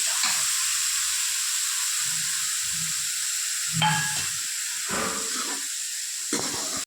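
Onions frying in hot oil for a tadka, a loud, steady sizzle and hiss running throughout, with occasional soft stirring sounds from the pan beneath it.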